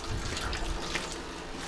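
Meltwater running off a roof makes a faint, steady trickle and splash outdoors, with no voices.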